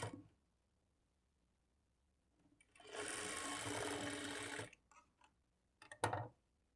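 A sewing machine joins cut fabric strips for a blouse lining in one steady burst of rapid stitching lasting under two seconds, close and clear. A few clicks follow in an otherwise quiet room.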